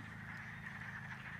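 A chorus of wood frogs calls outdoors, a dense, steady stream of duck-like clucking croaks at moderate distance with a low background rumble and no talking.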